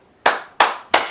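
Three sharp hand claps in a steady rhythm, each a crisp burst with a short decaying tail, close and loud with no voices, during a tabletop role-playing game session.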